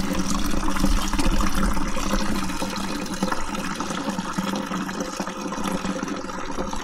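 AdBlue fluid draining from a Peugeot 508 tank: a loud, steady rush of pouring liquid that holds for several seconds with a slight easing, no talk.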